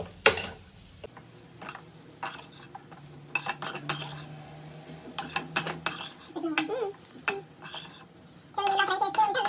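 A metal spoon stirs a protein halwa mixture frying in a pan over low flame, giving sparse scrapes and clinks against the pan with quiet gaps between them. A busier run of clatter comes at the end.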